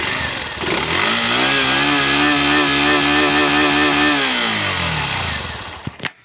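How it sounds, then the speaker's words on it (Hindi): A Hero Glamour X motorcycle idles in neutral, its steady engine note loud and close throughout, then it dies down near the end with a couple of brief knocks. "अब हम आपको सुनवा देते हैं ग्लैमर एक्स का साउंड।"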